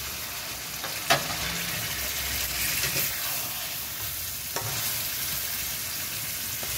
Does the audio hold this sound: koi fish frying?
yes